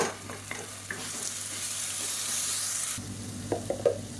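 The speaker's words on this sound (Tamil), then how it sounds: "இப்போ பாருங்கள் இஞ்சி பூண்டு பேஸ்ட்டு நல்லா வதங்கிடுச்சு" Ginger garlic paste sautéing in a pan for a roadside-style salna, a steady close sizzle and frying hiss with soft spoon stirring clicks, briefly louder before settling back.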